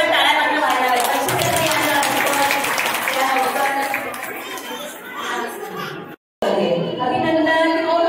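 A crowd at a women's haldi-kumkum gathering claps loudly and continuously amid lively chatter, with a brief dropout near the end before the clapping and voices resume.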